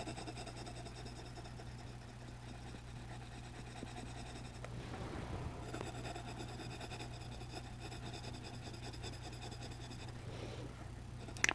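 Pencil sketching a hamburger on paper, a soft continuous scratching and rubbing that runs steadily throughout, faint and close, over a low background hum, with no talking.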